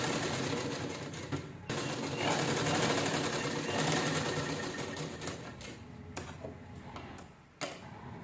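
A sewing machine stitches a chain onto a purse, its rapid ticking needle running close and steady with brief stops and restarts.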